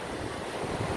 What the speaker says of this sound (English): There you can see the waves.